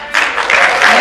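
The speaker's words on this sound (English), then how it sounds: "please come up to stage so we can give you a round of applause" Applause breaks out at a black-tie gala in Orange, Florida as the board of directors is called to the stage, a sudden, loud, steady burst of clapping from the crowd.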